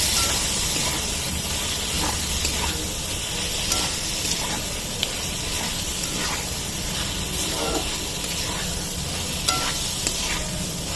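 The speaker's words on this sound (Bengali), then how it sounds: "আর একটু জল দিয়ে আর একবার কষাবো" Spiced masala curry with a splash of water sizzles and bubbles in a pan for a Hyderabadi egg salan, with steady frying hiss and occasional stirring scrapes throughout.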